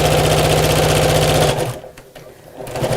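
A sewing machine stitches two laminate bag pieces sewn right sides together, running in a loud, steady, near buzz for about one and a half seconds, then stopping to near quiet with faint handling noises.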